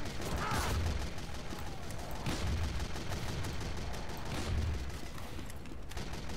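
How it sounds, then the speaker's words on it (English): The Loose Cannon in Team Fortress 2 fires cannonballs in three heavy booming shots about two seconds apart, mixed with dense game battle noise and no talking. "It's a loose cannon. Do you think I would have got that from the fact that it shoots cannonballs and is a cannon?"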